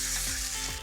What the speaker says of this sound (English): all we want to do is cook this briefly just to cook off the garlic and the ginger